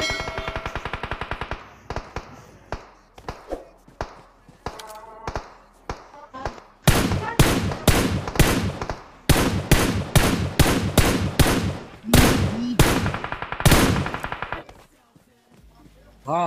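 Rapid bursts of gunfire from a PUBG Mobile match, loud repeated volleys of shots in clusters over the second half, with a voice talking over the quieter opening stretch.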